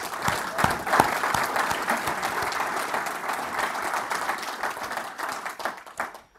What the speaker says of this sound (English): So I think we should give John one more tremendous round of applause for the great job he's done.